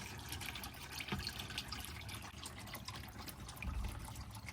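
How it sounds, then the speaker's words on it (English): A faint, steady trickle of motor oil runs from the oil pan of a 2015–2020 Chevy Suburban with a 5.3L engine, with soft drips and splashing in a quiet space. "we got 8 quarts here draining out, so it drains out fast, and it's quite a bit of oil"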